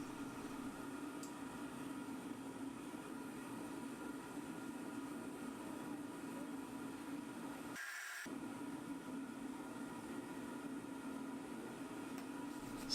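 A gas furnace warming up to melt bronze for casting a kettlebell roars in a steady, broad rumble with a strong low hum, continuous and fairly loud throughout, briefly dropping out once near the middle.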